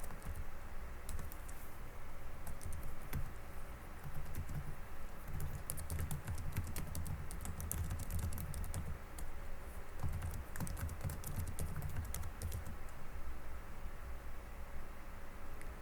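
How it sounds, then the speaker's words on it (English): Steady typing on a computer keyboard while writing a document in Microsoft Word, continuous close key clicks in uneven bursts throughout, quiet and alone with no talking. "We're going to type this exactly as I type it."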